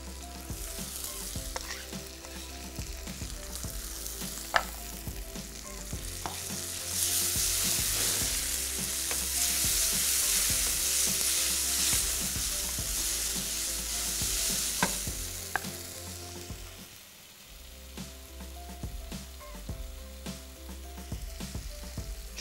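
Tomatoes tip into a pan of frying onion, ginger and garlic on an Indian kitchen stove, setting off a loud continuous sizzle with scraping stirs and clinks; the frying briefly surges louder before settling back.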